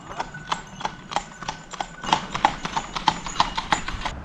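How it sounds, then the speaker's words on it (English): Hooves clip-clop in a steady, even rhythm as a horse walks along, roughly three strikes a second, close and crisp, growing slightly louder toward the end. "Why is that horse in the back?"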